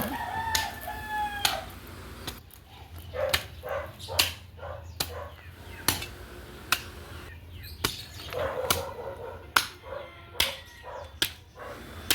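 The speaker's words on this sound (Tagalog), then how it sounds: "dun sa kabila may mga manok" Roosters crow at a distance while a dog barks in short, repeated bursts nearby, with outdoor ambience of a vegetable garden throughout.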